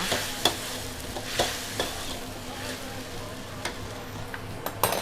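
Cashew nuts and green vegetables stir-fried in a wok, with steady sizzling and sharp scraping clicks of a utensil at irregular intervals, close and moderately loud with no talk.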